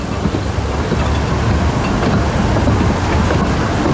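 A small themed train ride at Blackpool Pleasure Beach runs along with a continuous close rumble and rattling clatter, steady and loud throughout, with no voices.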